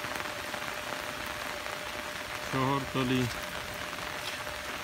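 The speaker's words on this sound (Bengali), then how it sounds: "নামাজ শেষেও বৃষ্টি চলছে। খুব ভারী বৃষ্টি আপনারা দেখতে পাচ্ছেন।" Heavy rain pours onto a bamboo-lined village road in Dinajpur as a steady, dense hiss throughout, with a short stretch of spoken words cutting in briefly midway.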